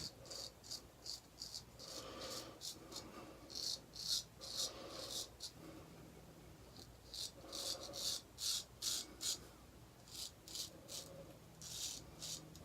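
A razor on a second cross-face shaving pass scrapes across stubble in repeated short rasping strokes, each burst a second or so long with brief pauses between, close and fairly quiet with no voice.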